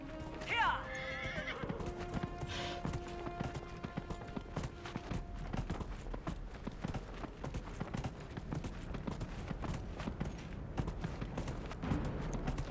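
A horse in the video game Dragon Age: Inquisition gives one short high whinny near the start, then its hooves clop in a steady, rapid gallop rhythm that carries on to the end, with game music tones fading underneath.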